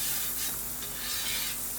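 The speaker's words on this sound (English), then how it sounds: "A soft sizzle." Leeks, potatoes and onion sizzle softly in melted butter in a pan, a close, continuous gentle frying hiss with faint stirring swells and no talk.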